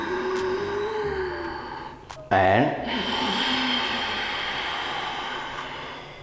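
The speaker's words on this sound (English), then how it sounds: "the sound breathing, Ujjayi breathing." A loud, breathy throat-constricted exhale rasps briefly in the middle, Ujjayi yoga breathing, surrounded by quieter background noise and a soft spoken word.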